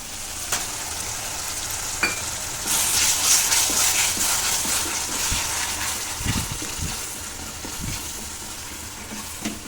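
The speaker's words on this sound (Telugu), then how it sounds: "ఇలా మీడియం ఫ్లేమ్ పైన 2-3 నిమిషాలు బాగా ఫ్రై అవ్వనివ్వాలి" Onion, ginger and garlic paste fries with tomatoes in a pan over a medium flame for a prawn masala curry, giving a steady, loud sizzle with occasional stirring scrapes and a few low knocks.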